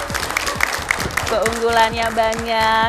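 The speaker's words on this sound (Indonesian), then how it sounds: "kita berikan tepuk tangan dulu untuk DVD Handycam" Studio audience applause for a Sony DVD Handycam on a television show, a steady patter of claps running beneath a presenter who keeps talking over it, with some music-like tones in the background.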